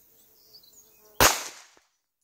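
Single sharp report from a Rock Island 1911 9mm pistol at a practice range, loud and close, ringing out briefly after faint background sounds, with no speech.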